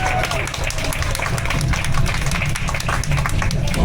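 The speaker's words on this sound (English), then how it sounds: "Can we give him a round of applause?" Passengers aboard the Pikes Peak Cog Railway train applaud one of the original surveyors, a dense wash of clapping over the low rumble of the moving train, with a few voices mixed in.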